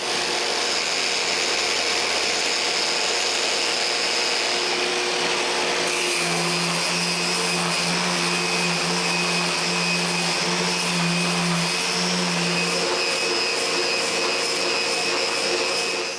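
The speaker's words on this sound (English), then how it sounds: "I don't even stop the sander between the sanding and the cleaning" A power sander runs steadily on a live edge wood fireplace top, a loud continuous motor whine that grows brighter and rougher partway through as the sanding and cleaning go on without stopping.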